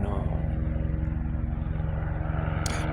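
A green and white helicopter passes overhead, a steady low rotor and engine drone holding for a few seconds, fairly loud and continuous with no talk over it.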